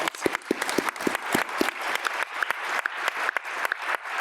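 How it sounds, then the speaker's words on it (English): Conference audience at a health innovation summit clapping: quiet, sparse applause with distinct individual claps landing in an uneven rhythm, heard from some distance and without voices. "I just want everyone to give themselves a round of applause"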